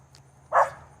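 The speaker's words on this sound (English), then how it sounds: "Hear Lux next door barking through the window." Neighbouring dog giving one short muffled bark heard through a window, faint and distant.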